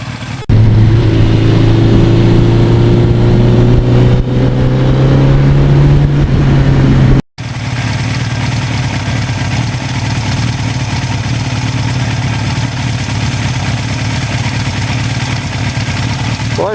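A 1982 Suzuki GS1100E motorcycle engine runs close by, a loud steady rumble with a slow rise in pitch over the first seconds, a brief cut, then a constant, even running note.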